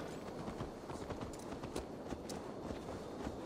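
Quiet, quick clip-clop of horse hooves in Assassin's Creed Valhalla, a rapid irregular patter of hoofbeats at moderate distance over soft ambient background.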